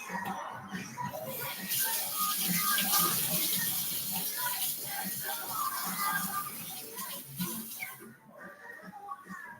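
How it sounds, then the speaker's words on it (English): A kitchen tap runs steadily into a sink as greasy hands are rinsed after handling bacon, a close, continuous splashing stream with small shifts as the hands move through the water. "Just needed to rinse my greasy bacon hands"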